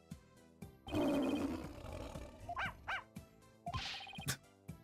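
A dog in the Phoenix Wright: Spirit of Justice game gives a loud roaring growl and snarl, followed by sharp game sound effects and chimes.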